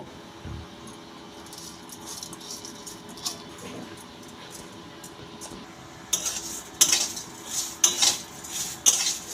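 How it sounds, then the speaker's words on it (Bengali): Washed Gobindobhog rice is dry-roasted in a hot wok, with a metal spatula scraping and clinking against the pan, quiet at first, then louder rhythmic stirring strokes near the end. "কড়াই গরম হয়ে গেছে শুকনো খোলায় চালগুলো ভেজে নেব"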